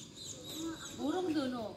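A cluster of young birds chirps on a morning walk, thin rising and falling peeping calls layered over soft background murmur, growing louder in the second half.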